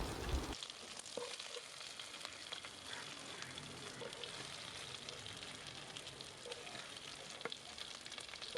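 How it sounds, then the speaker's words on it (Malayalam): Chicken pieces for karahi fry in a pan with a steady, dense sizzle, close and fairly even throughout, with occasional faint stirring clicks and no voices. "ചിക്കനൊക്കെ ഒന്ന് നന്നായിട്ട് ഫ്രൈ ആയിട്ട് വന്നിട്ടുണ്ട്"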